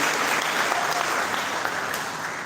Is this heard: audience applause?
yes